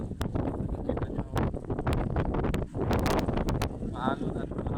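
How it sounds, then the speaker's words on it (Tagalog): Strong coastal wind at San Remigio, Cebu, buffeting the microphone in heavy, continuous gusts with rough bursts throughout. "maalon at mahangin"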